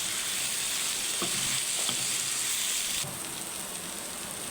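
Bitter gourd, potato and onion fry in a pan with a steady, close sizzle, dotted with a couple of brief stirring scrapes before the hiss softens slightly.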